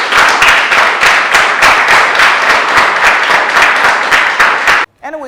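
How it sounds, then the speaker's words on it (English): An audience applauds at a reality TV show gathering: dense, loud clapping that holds steady for nearly five seconds, then stops abruptly as a voice begins. "give yourselves a round of applause."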